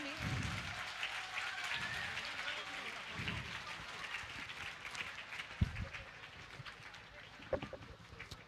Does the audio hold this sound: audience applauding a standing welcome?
yes